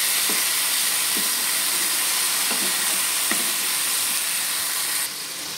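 Raw banana being sautéed with spices in a pan, a steady close sizzling hiss with a few soft stirring clicks, easing slightly near the end.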